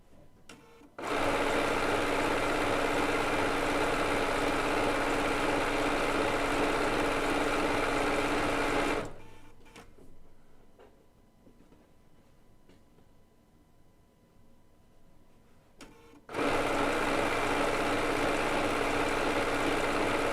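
A Bernina B990 sewing machine stitches decorative stitches onto quilt binding with a loud, steady motor whir. It runs in two long stretches separated by a quiet pause of several seconds.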